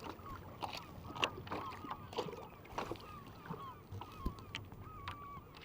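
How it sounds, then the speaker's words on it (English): Seagulls call repeatedly in short cries near the water off Inchkeith, an abandoned WW2 island in Scotland, fairly faint over steady water and wind noise with no speech. "check the seagulls"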